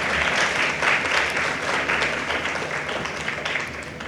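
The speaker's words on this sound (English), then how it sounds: "can we start this morning with a huge round of applause?" A large morning audience at a school sustainability panel event breaks into sustained, dense applause, many hands clapping steadily and loudly for about four seconds with no speech.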